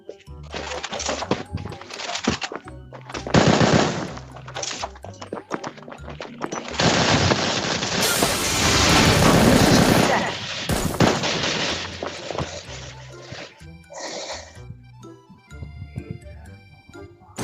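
Rapid automatic gunfire and bursts of shots from the Bullet Angel video game, dense and loud with a heavy sustained barrage in the middle, mixed with game effects and music-like tones.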